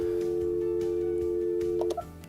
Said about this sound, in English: notice you can hear the dial tone